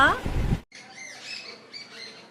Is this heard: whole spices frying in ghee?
no